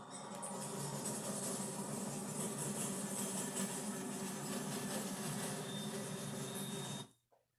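Norfolk Southern train NS216, with the 8101 Central of Georgia heritage locomotive trailing NS4090, rumbles past with a steady, dense clatter and roar of wheels and cars that continues unbroken before stopping abruptly.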